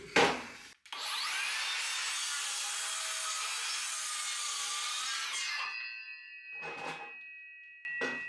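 A Makita 36V saw rips through 8x2 timber in one sustained, loud cut lasting about five seconds, followed by the motor winding down and a couple of short bursts afterward.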